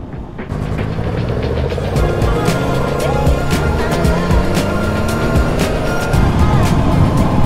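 A Yamaha MT-10 motorcycle engine runs loud and close while riding on an open road, its steady drone rising and falling slightly with throttle changes under heavy wind rush.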